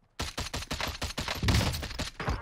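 A DMR rifle in Warzone fires a rapid string of about a dozen loud, close shots in steady rhythm, each crack trailing into the next with no talking over it.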